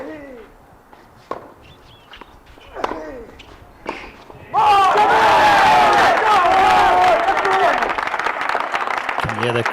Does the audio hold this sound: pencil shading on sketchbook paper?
no